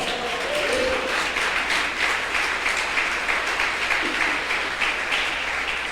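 A church congregation applauds the Lord during a sermon, a continuous, even wash of many hands clapping that holds at the same level throughout, with faint voices mixed in.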